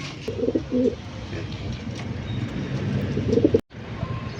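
Young racing pigeons in a loft coo in soft, repeated bursts over a steady outdoor background.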